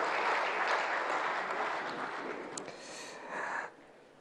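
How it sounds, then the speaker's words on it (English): A crowd at a New Year diplomatic reception claps steadily, a broad wash of applause that fades slightly before ending abruptly. "Please, another round of applause to the Dean of the Diplomatic Corps."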